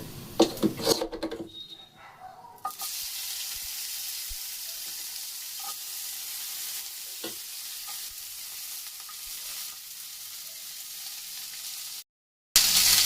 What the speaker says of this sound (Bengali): এগুলোকে সব আমি এখন তেলে ভেজে নেব।